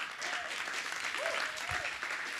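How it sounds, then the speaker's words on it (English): Theater audience applause, a steady wash of clapping at a modest level from a seated crowd, with a faint voice or two mixed in. "please give KG a warm round of applause"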